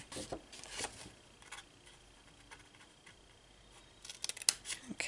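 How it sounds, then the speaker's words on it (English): Scissors snip through card paper during a papercraft easel card project, giving a few faint, quiet clicks and cuts near the start and a denser cluster of crisp snips toward the end, set against a low, quiet room background. "you can cut this one off here"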